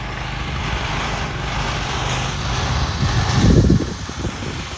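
An air compressor runs close by at a gutter job site, a loud, steady mechanical drone with a low rumble throughout and a brief surge near the end.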